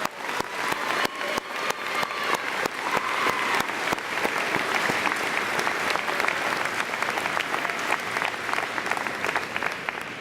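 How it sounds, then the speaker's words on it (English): Sustained audience applause for award winners at a university spring convocation ceremony, a steady dense clatter of many hands clapping together for about ten seconds with no voices over it. "Please join me in giving a round of applause to our award winners."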